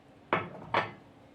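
Two sharp knocks of a bowl being set down and handled while preparing to knead dough, close and distinct, spaced about half a second apart in an otherwise quiet kitchen.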